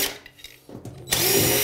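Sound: power drill removing bathtub overflow screws

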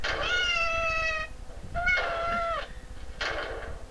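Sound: cat meowing

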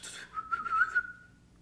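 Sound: person imitating whistles with their mouth

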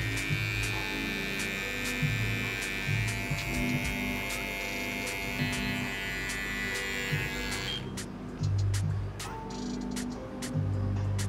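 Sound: electric hair trimmer finishing a low fade haircut

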